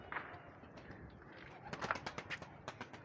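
Pigeons coo and settle at a rooftop pigeon loft, a few soft coos and wing flutters rising in short bursts near the end over a low outdoor hush.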